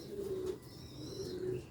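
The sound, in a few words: pigeons cooing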